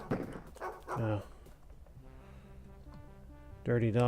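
Several dogs bark in bursts inside a modded Wolfenstein game, loud yelps at the start and again at the end, with a steady droning music bed running beneath the quieter middle.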